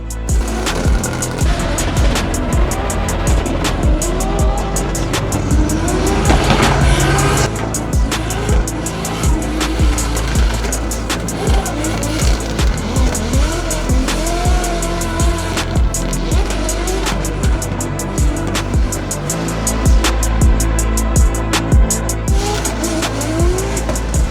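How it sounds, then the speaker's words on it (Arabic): Race cars on a finals day roar continuously and loudly close by, with engines revving and dropping through gear changes and repeated tire squeals and skids throughout. "هسوق انا وكريم مع بعض يلا"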